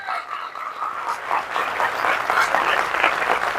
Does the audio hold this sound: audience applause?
yes